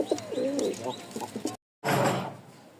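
Large pigeons of the Giribaz breed, a big male and female pair, coo in a few soft, close rolling phrases during the first half, followed by a short gap and a burst of broad rustling.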